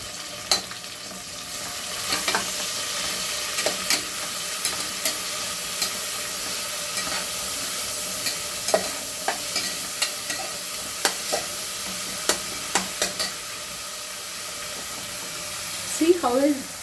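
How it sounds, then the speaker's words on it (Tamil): Chicken biryani ingredients with mint and coriander leaves frying in a pot, a steady soft sizzle throughout with occasional sharp clinks of a stirring spoon, fairly quiet and without talk. "See how it is getting fried."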